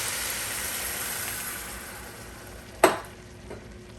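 Beef broth poured into a sizzling pan of Louisiana dirty rice gives a loud hissing fry that slowly fades, broken by a sharp splash and a few fainter clatters near the end.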